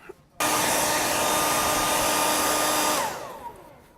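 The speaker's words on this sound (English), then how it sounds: "Hit it with the blow dryer." A blow dryer switches on abruptly and blasts a steady, loud whine for about two and a half seconds while drying a freshly sanded and wiped surface, then winds down as it is turned off.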